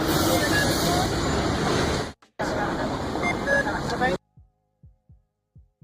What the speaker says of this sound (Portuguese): tava o barulho do trânsito e tal